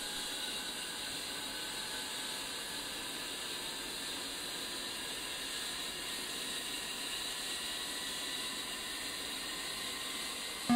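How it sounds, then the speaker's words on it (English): The left engine of an aircraft in a flight simulator game runs at idle as a steady, unbroken jet roar and hiss that holds a constant level, with no talking. "Once the left engine is running normal and stable"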